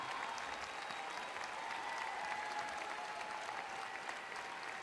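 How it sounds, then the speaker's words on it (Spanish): Sustained applause from a crowd at the closing of the World Tango Championship final, dense and even, continuing steadily the whole time without any talking. "La señora María Nieves anda por allí, me gustaría renovar el aplauso para ella, María, querida María, estás acá."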